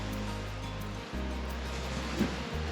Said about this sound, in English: waves just coming in